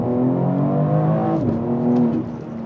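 A BMW X3 M Competition engine revs on a downshift, a loud close mechanical drone whose pitch climbs, dips briefly, then settles, heard from inside the cabin with no talk over it.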